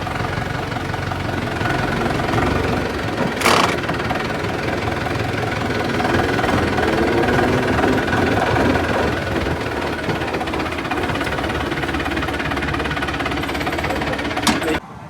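An HMT 5911 tractor engine runs steadily at a loud, close idle with a rhythmic knocking chug, broken by a sharp click or clank near the start and again near the end.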